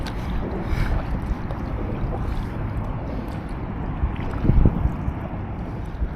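Kayak paddling under the Sunshine Skyway Bridge, with steady water wash and wind noise throughout and a slightly louder splash or stroke near the end.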